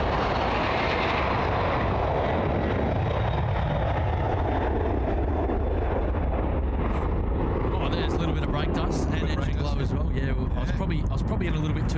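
A Qantas airliner at Sydney Airport roars loudly and close with a powerful jet engine rumble and whine that shifts as it passes, while people talk over it.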